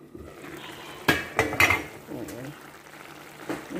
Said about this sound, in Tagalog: Ngayon, takpan ko ulit.